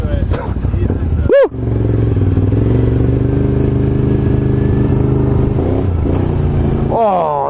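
An offroad vehicle's engine runs close by on a demo ride, a steady loud drone with throttle swells and a sharp rev near the end, while a person speaks over it.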